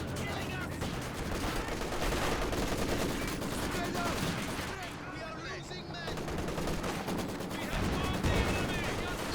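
Soviet Maxim machine gun firing during a Company of Heroes 2 battle, dense rattling bursts running almost continuously among other gunfire and battle noise, with a commentator's voice faintly underneath.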